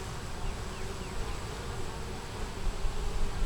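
Honeybees at a hive that recently swarmed make a dense, steady buzzing up close, a continuous insect drone that holds at the same loudness for the whole stretch, with no talking.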